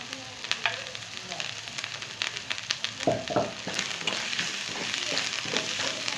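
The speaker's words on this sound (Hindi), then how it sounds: "इसी को मिक्स करें एंड पकाएं" Coriander tomato chutney sizzles and fries in oil in a pan while being stirred, a close continuous crackle with scattered scraping and spoon clicks.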